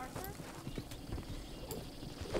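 An agitated horse stamps and clip-clops with hooves in Red Dead Redemption 2, scattered hoof thuds and a brief whinny heard under a voice.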